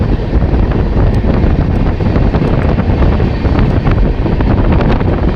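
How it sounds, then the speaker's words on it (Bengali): Cold wind rushes past an open door of a moving Garib Rath train on a hilly monsoon route, a loud continuous roar buffeting the microphone without break, alone with no talk. "ঠান্ডা ঠান্ডা হাওয়া গায়ে লাগছে দারুণ লাগছে ট্রেনের দরজায় দাঁড়াতে"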